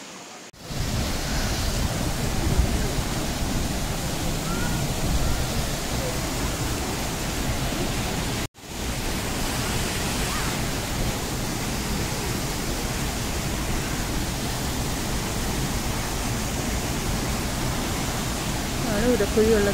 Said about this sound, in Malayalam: ഉരക്കുഴി വെള്ളച്ചാട്ടം.